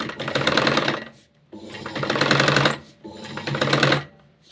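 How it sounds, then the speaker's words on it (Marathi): Sewing machine stitching a long sleeve in three steady rapid-clatter runs separated by short pauses, close and fairly loud, with no talking. "थोडंसं मी इथं शिवून दाखवते"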